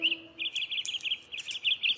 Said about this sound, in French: Dans la nature, il n'y a que des canaris mâles qui savent chanter dès la naissance.